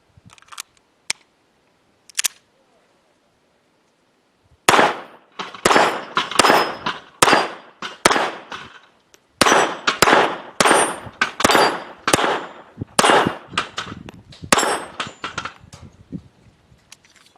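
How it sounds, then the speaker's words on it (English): Beretta 81 pistol fired at a shooting range with its original magazine: a few isolated sharp reports, then a rapid string of loud, close, crisp shots with short pauses between bursts. "this is going to be the first shots with the original magazine"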